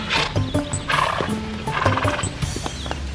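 A horse on a farm gives a loud, close neigh and snorting sounds, with soft hoof clops and brief background voices mixed in.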